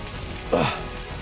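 Softened onions hitting a hot burger on a griddle, a steady close sizzle that swells briefly in the middle, with no talk.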